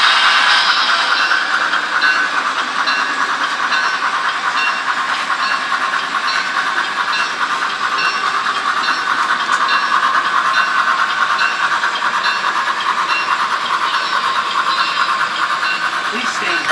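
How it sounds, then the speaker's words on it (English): A continuous loud hiss of steam with rumbling train noise, steady and unbroken throughout, as the Jupiter steam locomotive approaches pulling an 1860 train. "The 1860 train pulled by the Jupiter locomotive will be arriving momentarily."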